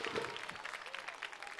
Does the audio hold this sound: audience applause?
yes